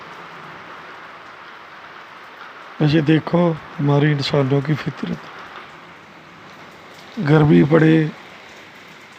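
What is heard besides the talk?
heavy rain falling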